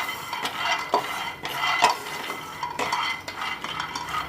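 Peanuts stirred and fried in a pan over a medium flame, with repeated scraping strokes and a soft sizzle underneath, close and steady with no talking.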